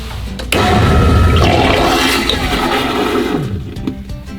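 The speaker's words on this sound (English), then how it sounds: "now flush the toilet" Toilet flush aboard an Outremer 5X catamaran during winterizing: a sudden loud rush of water that roars for several seconds, then drains and gurgles away, close by with no talking.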